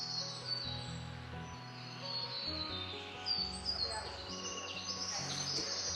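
Forest birds in Yarriabini National Park chirp and trill near the strangler figs, with repeated bright calls over a steady low tonal backdrop and no one speaking.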